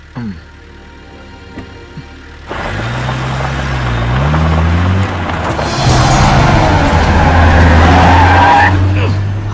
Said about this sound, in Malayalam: നീ വണ്ടി എടുക്കടാ പോപ്പ.